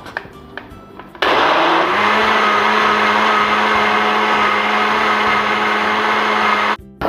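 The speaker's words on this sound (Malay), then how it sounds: "Dan kita blender sekali lagi." A blender mixing liquid kuih batter kicks in loudly after a moment of quiet and whirs at a steady, high-pitched roar for several seconds before cutting off.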